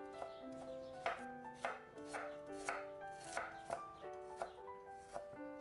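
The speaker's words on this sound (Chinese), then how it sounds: "大蒜和生姜都切成细丝" A knife on a cutting board chops garlic and ginger into fine shreds in steady, evenly spaced strokes, with a quiet tonal hum in the background.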